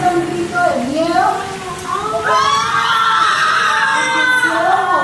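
A dramatized crowd shrieks in fear as a torpedo approaches a battleship, with overlapping high wavering screams rising and sustaining loudly, voices layered in a chaotic close chorus.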